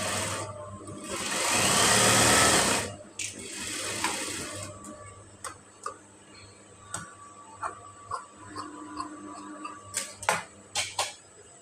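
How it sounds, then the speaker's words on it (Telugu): A sewing machine runs a narrow edge stitch along double-folded blouse lining cloth: one loud, fast whirring burst of a few seconds, followed by soft clicks and handling noises. "కినారి స్టిచ్ ఒకటి వేసుకోవాలి సన్నగా"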